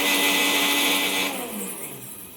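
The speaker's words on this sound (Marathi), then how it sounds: "बघा आता मिक्सरला फिरवून वगैरे झालेलं आहे सर्व." An electric kitchen mixer grinder grinds ingredients into a fine powder. It whirs loudly and steadily, then cuts off about halfway and winds down to a quieter hum.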